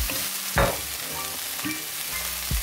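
Vegetables stir-frying over high heat for teriyaki chicken noodles, a steady close sizzle broken by a few sharp scraping tosses of the spatula.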